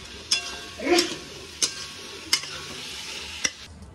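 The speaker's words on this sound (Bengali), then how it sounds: "এখন শুরু করলাম ঘুগনি রান্না" Ghugni cooking in a pan, a low simmering sizzle broken by about five sharp metallic scrapes and clanks of a spatula against the pan at irregular intervals, close and clear.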